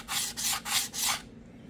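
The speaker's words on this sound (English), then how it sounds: "take you a wood chisel, deburr it on the flat side" A wood chisel's flat side rubs across a 400/600-grit diamond hone in four steady rasping strokes, close and clear, with brief pauses between passes and no talk.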